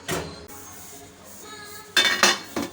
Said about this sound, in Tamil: ஒரு பத்து நிமிஷம் எடுத்து நம்ம ஓப்பன் பண்ணி பார்க்கலாம்